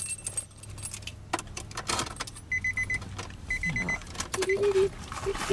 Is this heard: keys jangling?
yes